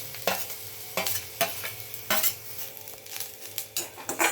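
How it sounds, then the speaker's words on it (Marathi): A spoon stirs onion and grated coconut being sautéed in a pan, sharp scraping strokes repeating every half second or so over a soft, continuous sizzle, close up with no talking. "त्याच्यामध्ये खोबरं ऍड करूया आणि परतून घेऊया"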